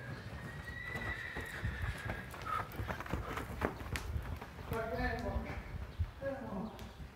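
A horse mare being worked out moves with clip-clop hoofbeats and gives a couple of whinnies, close by, while people talk over the movement throughout.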